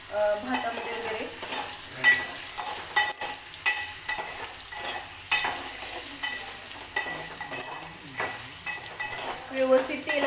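Potatoes frying in oil, crackling under frequent rhythmic stirring strokes and scrapes of a utensil against the pan, close and fairly quiet.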